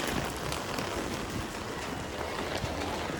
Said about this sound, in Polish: Bo ulewy i.